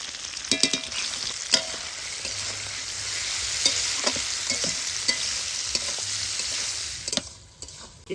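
Mutton skin frying in a pan with salt and turmeric, a loud continuous sizzle broken by sharp clattering stirs of a spatula, the hiss fading sharply near the end.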